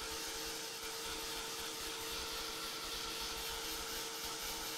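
A hair dryer blows steadily on a mixed-media painting, a constant close whooshing roar with no pauses.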